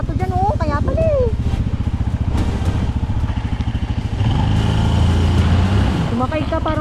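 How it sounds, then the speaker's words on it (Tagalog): A Yamaha PG-1 motorcycle's engine runs with a steady, rough chug as it is pushed through a rocky river on a backroad from Pantabangan to Baler, Aurora, with people talking over it throughout. "pilit na iginagapang ang motor habang unti-unting lumalakas ang tubig sa paligid namin"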